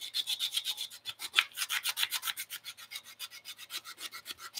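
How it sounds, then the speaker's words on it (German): A wooden piece is sanded by hand with quick, even back-and-forth strokes, a soft rhythmic rasping heard up close with no one speaking. "Man kann es hobeln, aber ich schleife es lieber."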